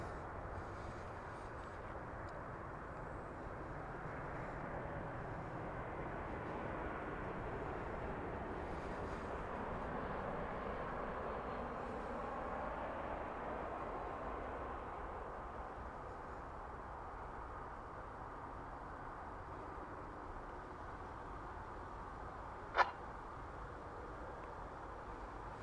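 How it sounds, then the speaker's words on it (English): A plane passes at DFW Airport after a go-around, a faint, distant, broad jet roar that swells and fades slowly over about twenty seconds, with a brief sharp click near the end. "So here comes the aircraft that had the go-around earlier."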